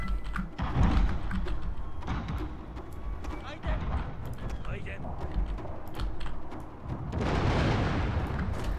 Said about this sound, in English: my ironclad has opened fire